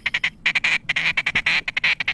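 Loud, close duck quacks in rapid bursts of short calls during a mallard hunt, about a dozen squawking quacks in quick succession with only brief gaps and no talk.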